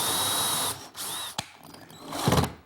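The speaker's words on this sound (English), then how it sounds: "I pre-drill some holes for a couple screws" A power drill pre-drills screw holes for a small corner attachment piece of kitchen island drawer hardware: one loud sustained whine that stops, then a short second burst and a brief knock, ending with a clattering handling noise.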